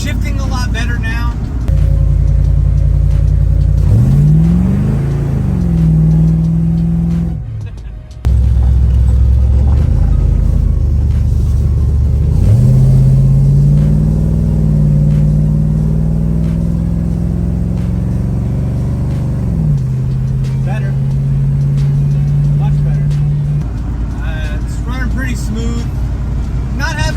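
A 1966 Mustang with a swapped 302 V8 engine and AOD transmission rumbles along while driving, engine tone rising and falling through shifts, heard under nearly constant close talk.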